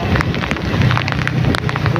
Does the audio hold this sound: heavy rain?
yes